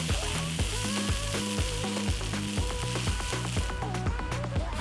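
Mixed vegetables with spring onion stir-fry in a pan, giving a steady close sizzle and hiss that runs the whole time beneath prominent rhythmic background music.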